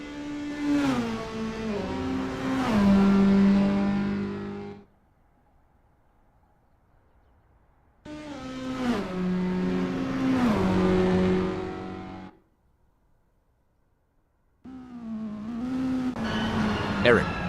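Toyota S-FR race cars in the racing game Assetto Corsa rev and accelerate loudly through the gears in three long bursts separated by near silence, with engine pitch climbing and shifting.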